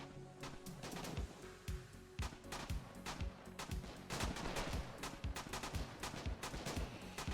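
Dense SMG fire from the competitive match of the war game Foxhole, with rapid overlapping bursts of automatic shots crackling steadily across the whole stretch, loud and continuous with no talk.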